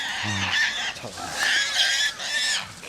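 Wild boar squealing and grunting during a mountain hunt, mixed with hunting dogs, in loud harsh bursts that repeat several times outdoors.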